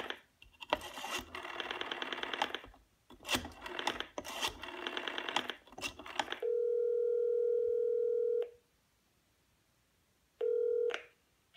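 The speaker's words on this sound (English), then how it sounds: "if I take it off the hook and I dial some sequence that is just a random one someone might dial" An old telephone on a geocache first gives a rapid clattering of dialing clicks, then a steady dial tone holds for a couple of seconds and returns briefly after a short silence.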